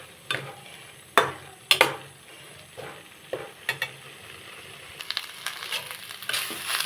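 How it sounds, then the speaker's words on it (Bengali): Bottle gourd leaf paste being stirred in a pan until dry, giving scraping strokes and soft sizzling at irregular intervals, close and alone with no talk. "লাউ পাতা থেকে পুরো জল শুকনো হওয়া পর্যন্ত আমাদের নাড়তে হবে এইভাবে"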